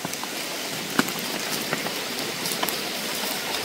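Steady rain falls on a forest camp, a dense hiss with scattered sharp drips and drops landing on nearby surfaces, and no voices.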